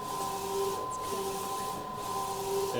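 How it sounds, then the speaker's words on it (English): A DTF printer running its first print job, giving off a steady, close mechanical whir with sustained tonal hums and a soft hiss that continues without a break. "The first file being printed on the DTF printer."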